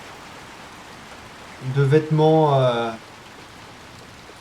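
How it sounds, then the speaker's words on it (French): Rain falls steadily in an abandoned town in the video game Little Nightmares 2, a soft constant patter beneath a short spoken phrase. "Et nous nous retrouvons de nouveau dehors sous la pluie dans cette ville abandonnée"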